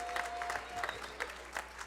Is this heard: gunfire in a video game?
no